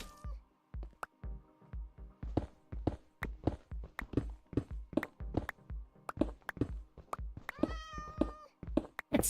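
A cat meows repeatedly in the Minecraft video game, a run of short, separate cries at an uneven rhythm with soft thuds and steps between them and a quick warbling call near the end.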